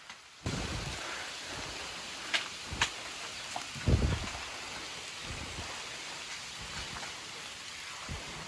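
Steady rain falling on a surface during a trip to Baduy Dalam, a constant soft hiss with a few distant rumbles and occasional louder drops and knocks nearby.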